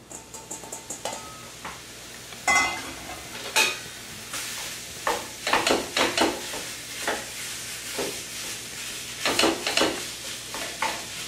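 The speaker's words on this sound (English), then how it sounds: "let's get this meat browning" Meat browns in a pan with a steady close sizzle, punctuated by repeated clinks and scrapes of a utensil stirring it, and no talking.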